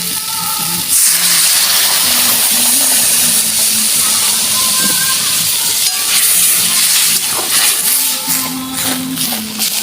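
Water poured into a hot pan while cooking a Bengali dish sets off a loud, steady steam hiss that runs continuously, with faint sizzling and clatter beneath it.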